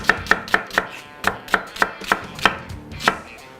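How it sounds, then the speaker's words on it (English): A large onion being julienned with a knife, with about a dozen crisp, close chopping strikes on a cutting board in a fairly steady rhythm. "Julienne it up."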